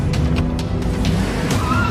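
Cars in a chase scene roar loudly at close range, engines straining under constant heavy noise, with brief tire squeals and bumps as one car is struck and swerves off course.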